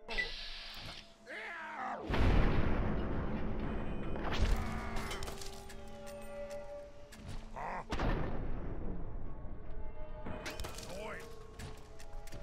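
Grenade blasts in Fallout 3's Garden of Eden area land as sharp, broadband thuds around 2, 4.5 and 8 seconds, each followed by a clattering, ringing tail, with game music and sound effects running underneath.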